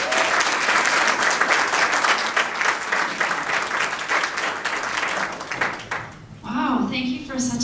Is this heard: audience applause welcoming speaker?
yes